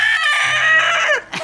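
A rooster crows loudly and close up in one long, sustained call that breaks off at the end, followed by a short clucking sound.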